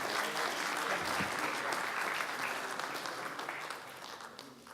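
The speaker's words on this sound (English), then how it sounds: "Ladies and gentlemen, another big round of applause." Audience at a panel discussion on innovation and start-ups in India and Singapore applauding the panel members: a sustained wash of many hands clapping in a large room, steady at first, then gradually fading.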